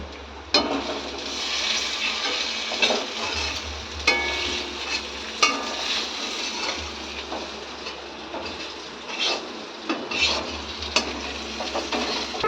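Bay leaf and dried red chili frying in oil for khichuri, a steady close sizzle with scattered crackles and spoon scrapes, with a low hum beneath throughout.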